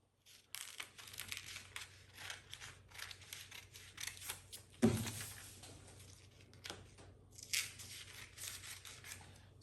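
Scissors snipping through paper to cut out a sewing pattern piece for a jacket with lapels, a steady run of close, crisp cuts with brief pauses and one louder thump partway through.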